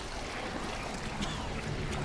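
Sea waves wash around a giant lighthouse standing in the open sea in the video game BioShock, a steady soft roar of surf and wind with faint splashes, unbroken and moderately quiet.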